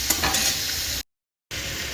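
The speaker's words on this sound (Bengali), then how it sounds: "এখানে আলু ভাজা চলছে।" Potatoes and cauliflower fry in hot oil with a steady sizzle and stirring scrapes, close and clear, broken by a full second of silence midway before the sizzling resumes.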